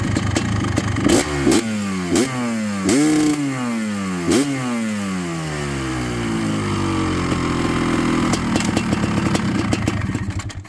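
A Honda CR500 two-stroke motorcycle engine, freshly restored after decades unused, blips through several loud, sharp revs that rise and fall in quick succession, then settles into a steady, rattly idle that holds close and loud through the end.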